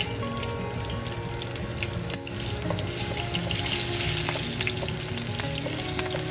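Green slit peppers fry in a pan, a steady close sizzle and crackle running throughout with a brief dip near the middle, no voices.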